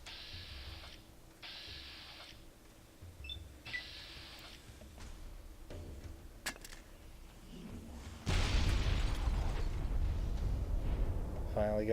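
A grenade explosion in the Fallout New Vegas video game, a sudden loud blast arriving late after quiet mechanical clicks and beeps, its rumbling tail sustained to the end.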